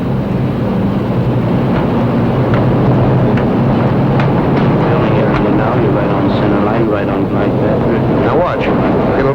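A fixed-wing airplane approaching to land on a runway roars loudly and steadily, with a broad rumbling noise that stays close and continuous throughout.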